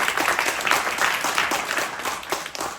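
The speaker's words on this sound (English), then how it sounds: "If we could give them a round of applause for their beautiful work." An audience at a car premiere claps for the designers, a dense, steady round of applause from many hands that carries on throughout with no one speaking over it.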